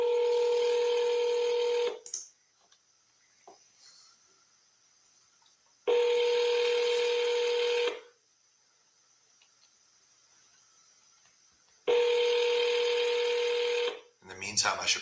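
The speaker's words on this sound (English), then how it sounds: "I'm calling it through my computer." A phone call placed through computer software plays three long, loud ringback tones of about two seconds each, separated by roughly four seconds of near silence, with faint clicks between them.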